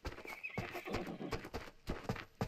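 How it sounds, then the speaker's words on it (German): Horse hooves clip-clop in uneven steps on a farm in the Farmer's Life simulation game, with a brief neigh and whinny over them, all at a moderate, fairly close level. "Das Pferd wird vorne eingespannt."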